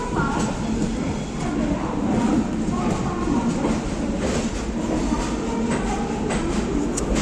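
A passenger train on the Guwahati–Secunderabad route runs on rails at speed, with a steady close rumble and faint rhythmic clicking of wheels throughout.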